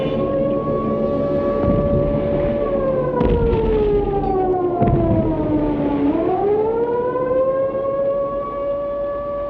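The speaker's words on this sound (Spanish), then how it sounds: "Cada vez que se detectaba una incursión aérea, un acercamiento de aviones, había 3 toques de sirena" An air raid siren wails steadily and loudly, its tone sliding down and then climbing back up, with no other sound competing.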